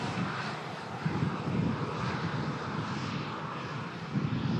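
Broadband roar of a Singapore Airlines airliner departing Manchester Airport on the longest one-stop route, a steady jet rumble heard at a distance, constant in level with slight swells throughout.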